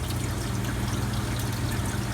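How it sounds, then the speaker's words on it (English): Water pump in a Manitowoc Indigo ice machine, running through the freeze mode after cleaning, with a steady low hum and continuous splashing, pouring water close by. "Goes the water pump this time."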